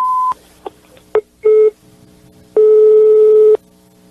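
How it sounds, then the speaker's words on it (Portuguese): A telephone line beeps and then gives a busy tone after a dropped call, with short tone bursts followed by a longer sustained beep, loud and close. "Sabirila, a ligação caiu."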